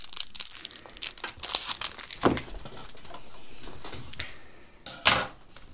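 A plastic bag holding a screw is crinkled open up close, giving bursts of crackling rustle with irregular rhythm and a sharp louder crinkle near the end.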